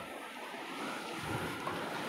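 Sea waves wash steadily at Velneshwar Beach in Konkan, a broad continuous surf roar mixed with wind buffeting the microphone, with no voices.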